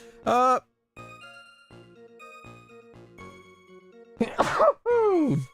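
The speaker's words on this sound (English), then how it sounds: "I gotta sneeze." A sharp sneeze bursts out near the end of a stretch of quiet background music, after a brief vocal sound at the start.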